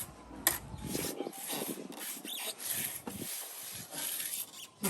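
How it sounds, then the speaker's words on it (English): A trowel spreads a sand-and-cement mortar bed beneath a porcelain paving slab, giving rough, gritty scraping strokes in uneven bursts, close but fairly quiet. "the trowel is just following just roughly the bottom of the previous laid slab"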